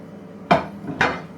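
Two sharp clatters a half-second apart as potatoes drop into a metal pan for a Yorkshire toad bake, each a bright knock with a short ringing tail, alone with no talk.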